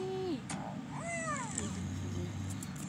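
Several cartoonish cat meows from a cat café video game rise and fall in quick succession over a steady electronic background, with a brief higher chirp near the end.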